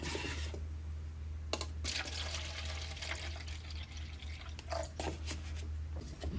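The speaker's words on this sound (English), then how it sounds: "Now I can add water to my styrofoam cup." Water poured into a styrofoam cup on a lab bench, with a steady background hum under scattered drips and pouring splashes, with no one talking.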